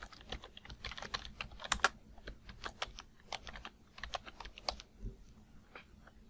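Typing on a computer keyboard, with quick irregular bursts of key clicks and brief pauses, close and fairly quiet with no talk.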